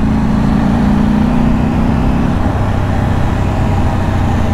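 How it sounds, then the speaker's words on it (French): A car drives past from the opposite direction on a road, heard from a moving motorcycle as a steady engine and tyre roar that swells and fades over a loud, constant rush of wind and road noise, with no talk. "il y a une autre caisse qui vient en face"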